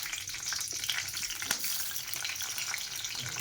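Green chillies sizzle and crackle in hot oil in a wok, a steady bright frying hiss with small pops. One sharper spatter stands out midway, and nobody speaks.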